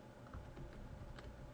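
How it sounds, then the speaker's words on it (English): Typing on a computer keyboard while entering Excel formulas, a steady run of soft, close key clicks filling the whole stretch with no talk. "So I'm typing that in."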